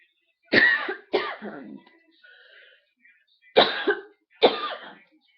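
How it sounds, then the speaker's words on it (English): Four harsh, close coughs come in two pairs, separated by a short pause with a faint sound in between; no talking. "I still got a bad cough"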